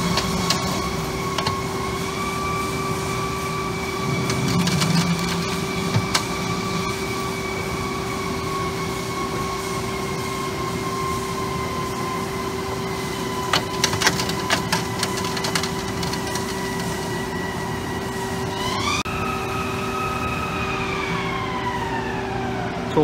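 Haas ST-55 CNC lathe cutting a thread connection, a steady machine whine with sustained tones that holds for a long stretch and then rises in pitch near the end, with no talking.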